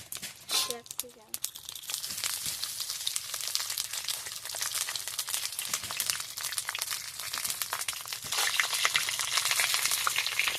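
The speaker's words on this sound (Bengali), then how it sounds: "তেল গরম হয়ে গেছে এবারে এটা আমি দিয়ে দিচ্ছি শিমলা মিষ্টা করাতে" Capsicum dropped into hot oil in a pan sizzles and crackles loudly and continuously, with dense broadband frying noise after a brief stirring clatter at the start, no voices over it.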